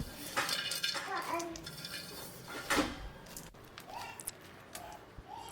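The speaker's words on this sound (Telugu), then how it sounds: "పదిహేను నిమిషాల వరకు నానబెట్టుకున్న శనగపప్పుని వేసుకుంటున్నాను ఆ తర్వాత ఇందాక మనం వేయించుకున్న పల్లీలను కూడా వేసుకోవాలి" Soaked chana dal and roasted peanuts tip into a bowl for a bottle gourd flatbread batter, with clinking of a utensil against the dish and a few scattered knocks, close and quiet.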